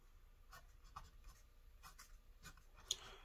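Pen or marker strokes scratching across paper or a board while a math formula is written out, a faint run of short scribbles with one sharper tap near the end, no talk.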